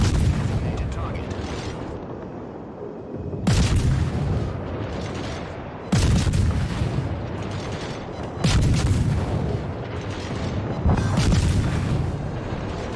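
Naval gunfire in World of Warships from a tier 10 British destroyer: five heavy booming salvos at regular intervals, each a sharp loud blast trailing into rumbling decay, over continuous game background noise.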